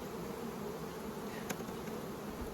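Dense, steady buzzing of honeybees swarming as they are shaken off frames while two hives are merged, a continuous insect drone with one brief click, no talking.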